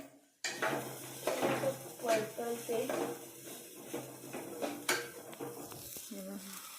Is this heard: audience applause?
no